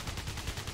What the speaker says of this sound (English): use the pistol on the small ones